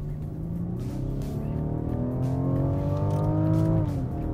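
A 2016 Rolls-Royce Wraith with a 6.6-litre V12 accelerating hard, its smooth engine note climbing steadily in pitch through a long pull before easing off near the end, heard from inside the car with no talk.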